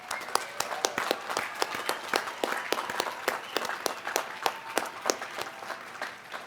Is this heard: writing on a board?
no